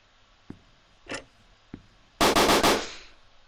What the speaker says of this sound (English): I thought there was a gunshot. No, that was just the fucking locker.